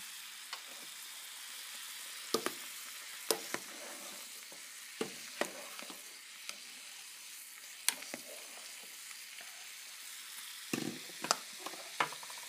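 Pasta boiling in a pot, a steady bubbling hiss broken by scattered soft pops and clinks from the pot, with no talking.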